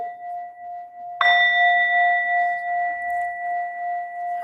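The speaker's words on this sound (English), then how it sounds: "So I'll ring my bell." A meditation bell is struck once, ringing with a clear sustained tone that slowly fades while humming on alone, with no talk over it.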